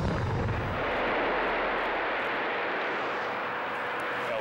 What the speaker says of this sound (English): It's called an air blast when you feel the shock wave.